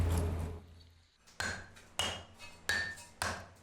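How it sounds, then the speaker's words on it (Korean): Hammer blows ring out on a brass bowl as it is beaten into shape by hand, about five sharp metallic strikes at a slow, uneven pace, loud and close with ringing decay and no talk. "망치로 두드려 형태를 만드는 우김질."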